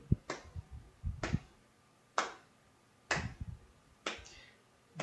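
Sharp hand claps in a music lesson keeping a steady pulse, about one per second, clear and close, each a crisp single hit with a short tail, no talking.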